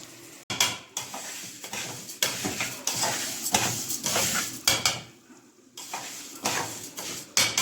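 Rice being stirred in a pot in a home kitchen: a spoon scrapes and clinks against the metal in uneven bursts over a soft sizzle, with brief pauses between strokes and no talk.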